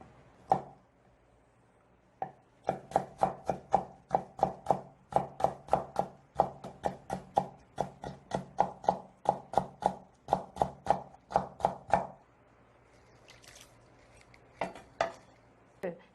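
Knife chopping Korean melon on a cutting board in a home kitchen, a steady run of about thirty close, sharp thuds in quick rhythm, then a pause and a few light clinks, no talking.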